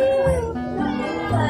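A cat meows in drawn-out, pitched calls close by, with people's voices mixed in around it.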